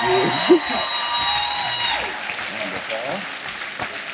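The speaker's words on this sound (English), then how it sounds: "So please make some noise and give a round of applause for our guest tonight" Studio audience applauds and cheers as a guest takes the stage at a live podcast taping, with broadband clapping, a whoop near the start and voices talking over the noise.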